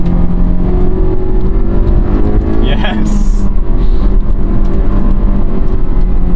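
A Honda car engine, either a 2023 Civic Type-R FL5 or an S2000, revs loudly and climbs steadily toward redline from inside the cabin, with a brief rise near the peak and someone talking over it.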